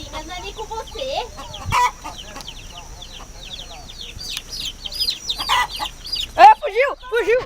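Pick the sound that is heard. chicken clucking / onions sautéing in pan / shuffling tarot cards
chicken clucking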